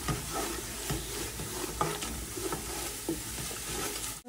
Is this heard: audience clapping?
no